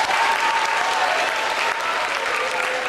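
A middle school audience applauds for a girl seated beside the speaker on stage, dense sustained clapping from a large crowd with a faint tonal hum running underneath, steady and loud from start to finish.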